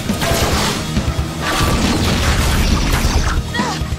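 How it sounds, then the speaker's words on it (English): A hangar being torn down, loud crashing and booming destruction with smashing debris that roars on steadily for several seconds. "He's trying to destroy the hangar."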